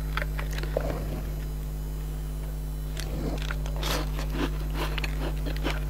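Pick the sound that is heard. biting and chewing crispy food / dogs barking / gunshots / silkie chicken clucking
biting and chewing crispy food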